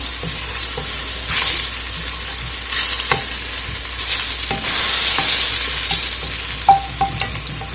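Hot Indian curry sizzles steadily in a pan, loud and close, with scraping stir strokes breaking through the continuous frying hiss and no voices.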